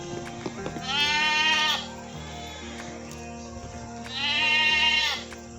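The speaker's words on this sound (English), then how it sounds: "Said the goat." A goat bleats twice in long, wavering cries, loud and close, with a quiet gap between them, set against soft background tones in a children's read-aloud.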